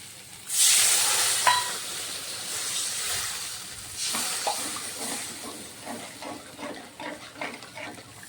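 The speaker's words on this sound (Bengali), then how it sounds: "এই যে মশলাগুলো কষা হয়ে গেছে, তেল ছেড়ে দিচ্ছে, এখন আমি জল দিয়ে দেবো।" Water poured into a pan of sizzling fried spices for a Bengali jackfruit and prawn curry sets off a sudden loud hiss of steam, which eases into a steady bubbling sizzle with soft clinks and stirring.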